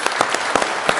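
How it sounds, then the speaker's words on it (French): Congregation at a Sunday family Mass clapping for the catechism children, a short burst of indoor applause in a reverberant church with a few sharper individual claps standing out. "On pourrait applaudir à tous les enfants qui vivent la catéchèse en ces moments."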